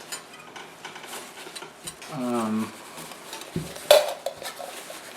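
Metal pots and utensils of a bushcraft cook kit clank and scrape while being handled, with a brief ringing scrape in the middle and a sharp metallic knock near the end, close up in a quiet outdoor setting.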